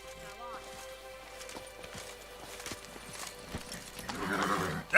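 Roach the horse walks in The Witcher 3, hooves clip-clopping in a steady plodding rhythm under ambient game music and a voice, growing louder toward the end.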